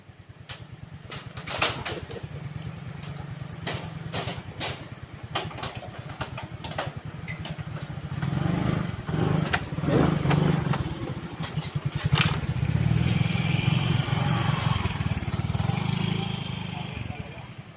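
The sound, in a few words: motorcycle engine on hanging bridge ride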